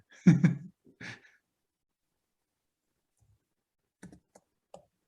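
A few quick bursts of keystrokes on a computer keyboard, a short cluster at the start, then a long pause before a few more scattered clicks, close and fairly quiet, with no one talking.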